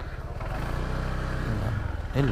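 A Honda PCX 160 motorcycle engine runs at a steady low idle throughout, with someone talking over it close to the mic and a brief rise in engine noise near the end.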